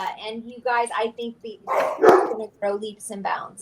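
A dog barks several times in short bursts, the yaps spaced irregularly and close by, sounding over and between a woman's ongoing conversation.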